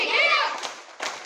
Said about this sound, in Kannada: ಈಗ ಡುಮ್ ಡುಮ್ ಚಪ್ಪಾಳೆ, ರೆಡಿ ಪೊಸಿಷನ್, ಸ್ಟಾರ್ಟ್, ಗೋ.